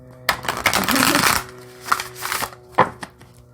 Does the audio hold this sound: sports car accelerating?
no